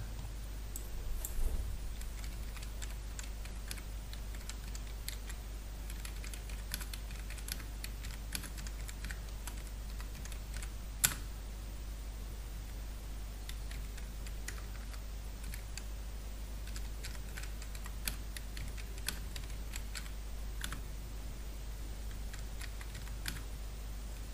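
A computer keyboard is typed on while text is copied and pasted, giving sparse, light key clicks and a few sharper taps over a steady low hum, fairly quiet and close.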